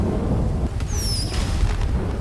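Fireworks go off in GTA 5 as a continuous low rumbling boom, with a pair of descending whistles streaking through the middle, loud and steady throughout.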